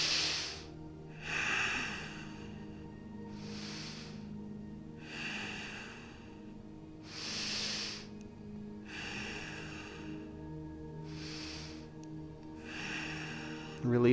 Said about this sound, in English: This is all breathing in and out through the nose